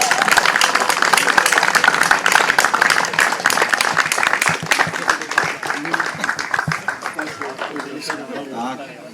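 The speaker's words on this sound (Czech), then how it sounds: "Obrovský potlesk, prosím." An audience applauds at an award ceremony honouring a lifetime contribution to local tennis in Kaplice: dense, sustained clapping from a crowd that gradually thins toward the end, with voices heard near the close.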